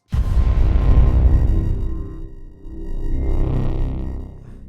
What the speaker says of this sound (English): you have the reverb coming around it, this delay, this sort of, there's quite a long pre-delay, so it's almost like an echo.